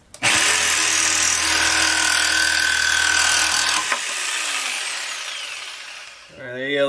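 A Bosch power tool fitted with a metal cutting bit slices through steel rebar, a loud, steady grinding whine that holds for several seconds before cutting off, followed by a brief quieter tail.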